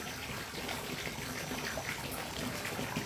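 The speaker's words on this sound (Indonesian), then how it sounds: "tumpahan air ya, dari pancuran gitu" Water spills steadily from a spout into a fish pond, a continuous splashing gush that stays even and fairly close throughout with no voices.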